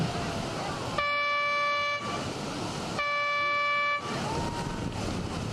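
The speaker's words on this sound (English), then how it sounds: "the train's coming through" Two long, loud blasts of a train horn, each about a second, separated by a pause, over a steady rumbling background with faint talk.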